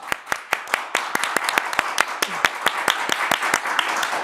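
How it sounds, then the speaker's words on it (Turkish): Studio audience on a Turkish quiz show clapping, a run of sharp, fairly sparse claps that thickens into steady applause, with faint talk underneath. "Efendim bir alkış verelim Deniz Hanım'a"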